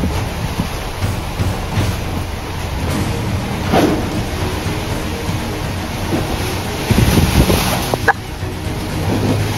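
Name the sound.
strong wind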